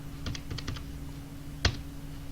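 Several quick keypresses on a computer keyboard, then a pause and one sharper, louder key tap like an Enter press, close and clear with no talking.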